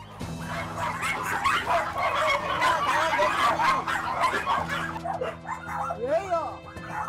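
Several dogs kept at a house bark and yip agitatedly in repeated bursts, with whimpering, while voices talk over and between them.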